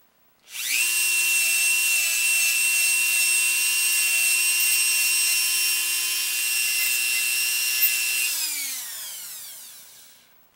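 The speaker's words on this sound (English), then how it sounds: "I'm going to grab my sanding drum, and I'm going to take it down a little bit more" A rotary tool with a sanding drum shaping a wooden part spins up to a steady high-pitched whine that holds for about eight seconds, then winds down, loud and close with no voices.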